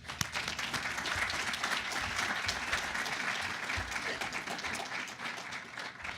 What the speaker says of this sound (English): let's give them all a UCF warm round of applause